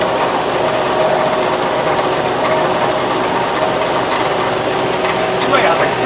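A hay baler works a farm field, making a steady mechanical clatter of gears and ratcheting parts over a constant engine drone. It sounds close and continuous, with faint voices in the background.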